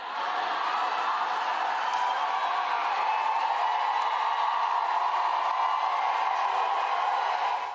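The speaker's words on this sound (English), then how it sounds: "Thunderous applause for that." At a political rally, a large crowd holds a continuous roar of applause and cheering that stays loud and even from start to end, heard from within the audience.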